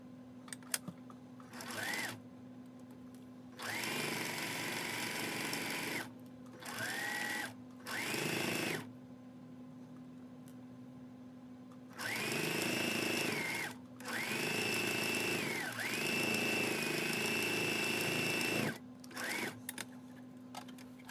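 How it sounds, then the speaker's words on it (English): A sewing machine stitching around the perimeter of a fabric sleep bonnet runs in repeated steady whirring bursts of one to three seconds, with brief pauses between them. It is close and even, with no voices. "I will go ahead and stitch around the full perimeter"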